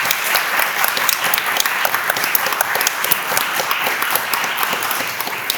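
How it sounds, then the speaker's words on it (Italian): Audience applause at an autobiographical writing festival event in honour of its authors, a dense steady wash of many hands clapping close by, sustained evenly throughout with no talk. "Io farei un grande applauso a tutti loro."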